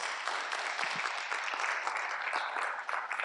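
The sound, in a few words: audience applause at a conference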